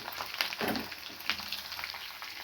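Green chillies, curry leaves and cumin seeds fry in hot oil in a pan, giving a steady close sizzle with brief crackling bursts and soft stirring scrapes, and no voices.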